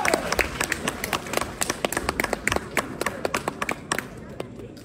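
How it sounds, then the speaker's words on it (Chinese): Live audience applause fills a traditional crosstalk (xiangsheng) show at Guangdelou theatre, a dense burst of many hands clapping that thins toward the end, with voices speaking over it. "感谢大伙儿热烈的掌声。"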